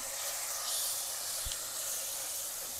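Water added to hot oil with onion and spices in a pan, a soft steady hiss and sizzle with a brief faint knock midway, quiet and close.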